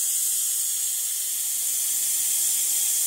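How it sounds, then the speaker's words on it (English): Steam hisses steadily from the release valve of an Emeril pressure cooker holding pork stew, a loud, continuous broadband rush that holds level for the whole stretch with no talk over it. "Let's let off some steam"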